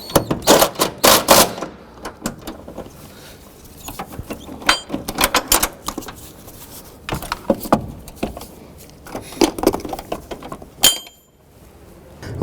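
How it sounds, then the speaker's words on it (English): A Honda Civic transmission mount bolt is driven tight with an impact wrench in short, loud rattling bursts, with gaps and metallic clinks between them, close up in a garage. "I'm going to go ahead and tighten that one up with the impact"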